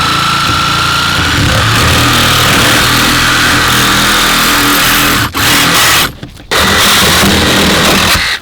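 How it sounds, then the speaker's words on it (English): A Sawzall reciprocating saw cuts away plastic trim near a car's B-post during vehicle extrication rescue training. A loud, continuous mechanical roar runs throughout, with two brief dips near the end. "We know that we got to remove this plastic so we can get as down low on the B-post as possible, so that's a Sawzall job."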